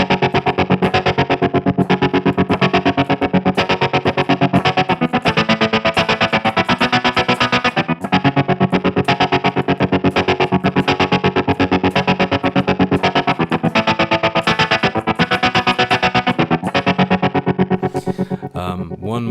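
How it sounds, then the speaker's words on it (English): Distorted guitar through a Dark Waves tap tempo tremolo pedal set to a quick square-wave tremolo plays continuously with a rapid, choppy on-off pulsing that chops the sound into even stutters, loud and dense throughout. "hear what that kind of quick, choppy, square wave tremolo sounds like"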